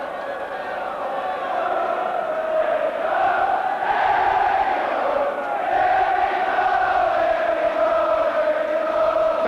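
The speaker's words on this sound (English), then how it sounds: "Fantastic backing for Oxford from the crowd." A large football crowd roars and chants in steady support of Oxford United during a 1984 cup match against Everton, a dense, continuous wall of voices swelling slightly midway.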